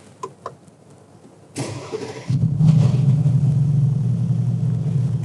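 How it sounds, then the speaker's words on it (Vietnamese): A 2023 Mercedes-AMG G63 Edition 55 engine turns over and catches after a brief quiet, settling into a loud, steady deep rumble close by with a slight rise in revs, and no talking. "Cái tiếng âm thanh phát ra từ động cơ của chiếc xe G63 này bạn, thật sự nó quá là cảm xúc luôn."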